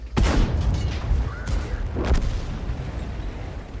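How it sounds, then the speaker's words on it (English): Artillery fire in the World of Tanks video game: several booming shots and explosions land in succession over a low rumbling battle ambience, loud and close. "Looks like artillery is working as magic."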